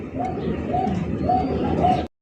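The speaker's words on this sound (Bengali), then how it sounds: "জুয়েল ভাই, ভাই বোম্বাই বোম্বাই কালো বোম্বাই কবুতর" A black Bombay pigeon coos steadily in a repeating rhythm, four or five low throaty calls close by, with the sound cutting off abruptly at the end.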